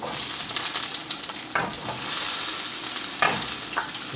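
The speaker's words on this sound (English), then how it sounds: "First, I'm gonna put the onions in." Onions sizzle steadily in olive oil in a hot pan, a dense continuous frying hiss with occasional clinks and scrapes of stirring close by, without speech.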